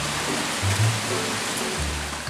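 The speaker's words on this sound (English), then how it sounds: "but it is pouring down rain" Heavy rain pours down steadily outdoors, a dense, continuous hiss with low rumbling underneath, constant and loud throughout with no voices.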